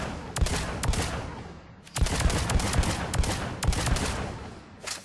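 Phalanx heavy pistol in Mass Effect 3 fired from the hip, a string of sharp close gunshots in quick bursts with a short gap, reverberant tails between shots.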